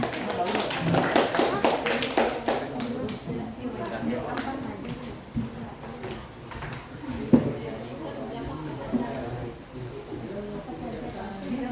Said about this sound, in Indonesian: Beri tepuk tangan dong buat kelompok 4.